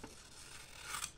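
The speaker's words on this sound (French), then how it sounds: "certains ciseaux, quand vous coupez tout au bout" A quick, crisp snip of scissors cutting through paper, with a short rasping slide, close and fairly quiet.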